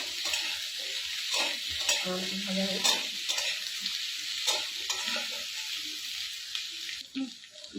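Steady, close sizzling of frying in a hot pan with light stirring clicks and scrapes throughout, no voices.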